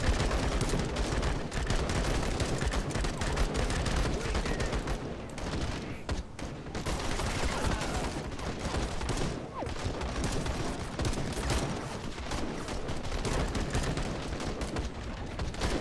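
Call to Arms multiplayer battle with rifles and machine guns firing continuously, a loud dense fusillade of overlapping shots and bursts, close and distant, with no pauses throughout.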